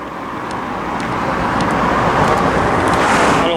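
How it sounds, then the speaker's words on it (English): A car passing along a road near a fenced-off former mental hospital site, its steady tyre and engine roar building gradually and staying loud, with no talk. "And here comes another car."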